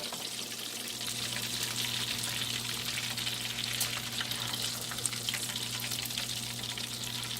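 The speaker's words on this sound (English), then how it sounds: "I'm going to fry my fish, and that's going to be the end of this fry." Whiting fish frying in oil in a skillet gives a steady, close hiss of sizzling fat that runs evenly throughout with a faint underlying hum.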